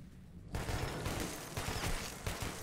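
Rapid bursts of gunfire from a gun in the video game Metro 2033 Redux, starting abruptly after a brief quiet moment and continuing in loud, clustered volleys.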